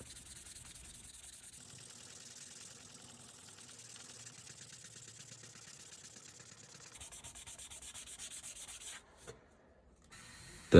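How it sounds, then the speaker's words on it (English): Steady scratchy rubbing of 220-grit sandpaper worked back and forth by hand on a wooden cutting board, continuous and close, ending with a brief pause and a sharp knock. "I started with hand sanding with 220 grit sandpaper"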